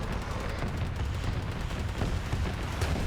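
Continuous heavy gunfire in a zombie campaign video game as players dump whole magazines, a dense, loud barrage of overlapping shots and booms with no pauses throughout.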